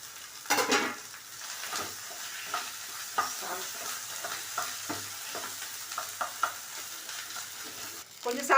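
Mashed potato with turmeric frying in a pan, a steady low sizzle under repeated scraping and stirring strokes from a spoon, close and moderately quiet, with no talking.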